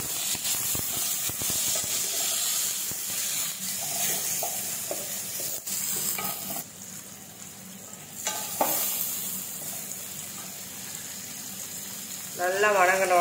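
Onion and tomato sautéing in a pan of fried fenugreek, a steady close sizzle and hiss with stirring scrapes throughout, ending in a brief louder flare.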